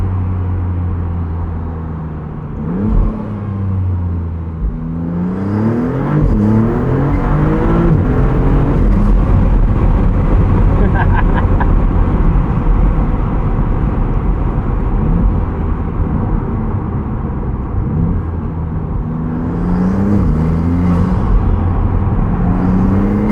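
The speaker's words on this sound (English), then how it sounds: "Quite intense turbo noise there, and it's just hysterical." Twin-turbocharged engine of a 2022 Maserati MC20 supercar on a backroad, revving up through several rising pulls with loud, close exhaust roar and a whistling turbo whine, steady and intense for over twenty seconds.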